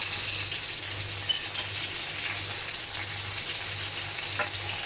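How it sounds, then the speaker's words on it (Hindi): Stuffed masala potatoes frying in a pan, giving a steady close hiss and sizzle of hot oil throughout, with faint crackles and no talking. "10 मिनट हो गए हैं आलूओं को पकते हुए।"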